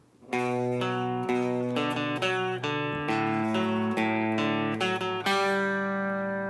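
A song's guitar riff in a slightly varied repeat, ringing sustained notes punctuated by quick picked runs, played close and alone with no voices.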